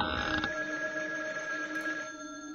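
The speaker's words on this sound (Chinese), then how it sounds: "电话线是断的，竟然也在响，难道是传说中的阴间电话？" Old-style telephone bell ringing in the Chinese horror puzzle game Paper Bride 5, a steady, moderately loud metallic ring with sustained tones that continues alone for a couple of seconds.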